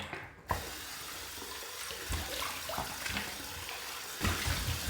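A tap runs steadily into a sink while the face is wet before a shave, a broadband gush with splashes and hand movements in the water, close and alone without talk.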